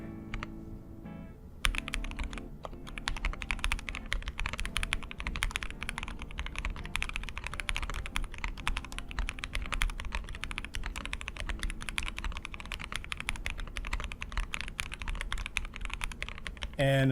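Rapid, steady typing on a secondhand Zoom65 mechanical keyboard fitted with lavender switches, dense clacky keystrokes running continuously and close up after a short quiet start, with no one speaking.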